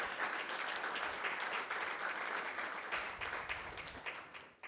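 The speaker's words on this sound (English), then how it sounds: "a huge round of applause for the Colon Cancer Coalition" Sustained audience applause at a Colon Cancer Coalition event, a dense wash of clapping from many hands that holds steady and then begins to thin out toward the end.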